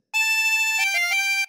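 Phrase ten of a theme on harmonica, one long held reedy note sliding down through a couple of pitches before stopping, played alone and close.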